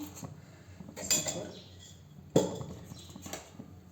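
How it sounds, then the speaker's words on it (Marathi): A spoon adding sugar to a pot of tea, with a few soft scrapes and one sharp metallic clink against the pot, close and faint, under quiet speech. "आपण दोन चमचे साखर घालणार आहोत दोन ते अडीच"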